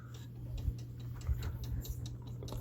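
A one-day cuckoo clock's pendulum ticks in a quiet room, soft regular clicks about every half second over a low steady hum.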